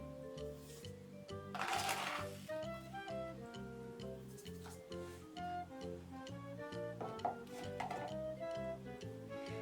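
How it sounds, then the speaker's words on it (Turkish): Spoon stirring yeast and sugar into warm milk in a bowl for poğaça dough: a steady ticking clink against the bowl, regular and quiet, under soft background music. "Ve maya eriyene kadar karıştırıyorum"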